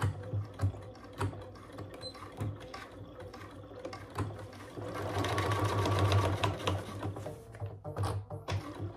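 A sewing machine stitches close to a zipper on a bag hardware case, quick rattling needle clatter in short runs that swell into a louder sustained burst before easing off, up close.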